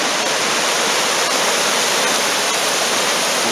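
Steady broadband rush of a spring creek flowing over rocks outdoors, continuous and fairly loud with no voices, a constant wash of running water throughout.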